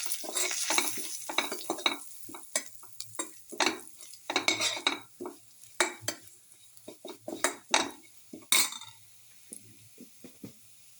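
Casserole ingredients with chili powder are stirred in a metal pan, a spoon scraping and clinking in irregular bursts over a soft sizzle, close and fairly quiet.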